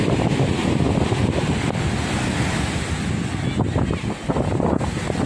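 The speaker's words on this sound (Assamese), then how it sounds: "সাগৰৰ পাৰত ইমান জোৰে জোৰে ঢৌ আহি আছে আৰু ইমান বতাহ" Strong sea waves crash and roar at Marina Beach in Chennai while gusting wind buffets the microphone, forming a loud, continuous wash of surf and wind noise up close, with no voices.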